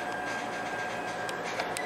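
An E129 series train pulling into a station on the Joetsu line, heard as a steady close rumble with a faint tonal whine and light clicks, no talking.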